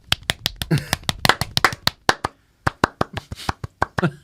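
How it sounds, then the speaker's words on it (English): Sharp hand claps in a steady rhythm, about two dozen crisp close claps with a brief pause midway. "because you're clapping."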